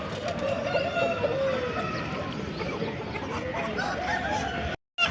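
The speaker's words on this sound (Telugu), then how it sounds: "మీరు చూస్తున్న కడకనాథ్ కోడి" Kadaknath chickens at a busy poultry market, with repeated clucks and calls over dense crowd chatter and background bustle, ending in a brief cutout.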